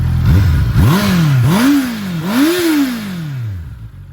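A Honda CB650R motorcycle on a dealer test ride revs through several rising and falling engine sweeps, its four-cylinder growl loud and close, climbing in pitch with each throttle blip before easing off.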